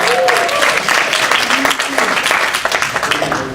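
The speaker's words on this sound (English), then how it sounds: "Let's give him a round of applause." Audience applause from a room at a talk or community event, steady dense clapping lasting throughout with some voices mixed in.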